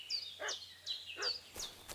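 A dog barking in the medieval game Kingdom Come Deliverance II, a few sharp barks spaced about every half second, fairly faint and distant, with high bird chirps threaded between them.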